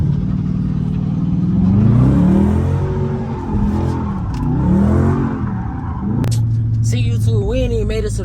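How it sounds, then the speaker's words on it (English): A Dodge Charger revs hard in first gear for a burnout, its engine rising and falling in loud swells with tire noise, then a sharp squeal near the end as someone talks over it. "Now that you're in manual and first gear, my boy, you start off with a slight little burnout."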